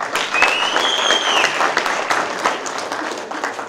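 An audience at a political breakfast event applauds steadily throughout, dense overlapping claps with a faint whistle rising above the noise.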